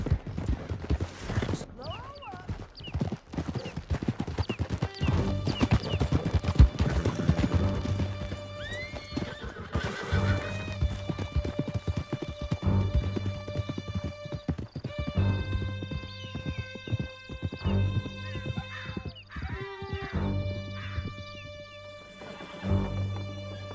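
Horses galloping hard through a canyon in Red Dead Redemption 2, rapid clip-clop hoofbeats with an occasional whinny, steady and close throughout while characters talk over the riding.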